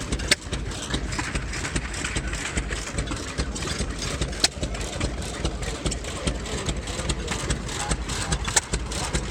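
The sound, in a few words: 1907 Fairbanks Morse 3 horsepower stationary engine running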